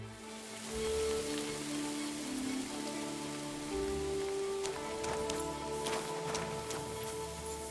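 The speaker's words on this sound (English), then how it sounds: "I don't mind a bit of rain, but there's gotta be a limit." Steady rain falls across a medieval open-world scene in Kingdom Come Deliverance II, a dense continuous hiss with scattered droplet patter and a few faint tonal music notes beneath, no voices present.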